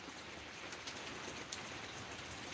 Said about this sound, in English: I'm gonna leave the live on for the thunderstorm